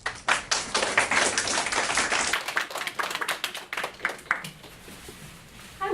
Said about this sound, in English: Please give a round of applause for these outstanding kids